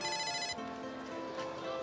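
A mobile phone rings with a bright electronic ringtone, a clear tonal melody that cuts off after about half a second, leaving a softer lingering tone and quiet room sound.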